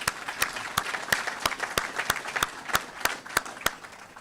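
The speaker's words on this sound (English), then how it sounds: "So a little round of applause for them." Luncheon audience at a touchdown club gives veterans a short round of applause: a light, mixed patter of hands with a few sharp, regular claps standing out near the microphone.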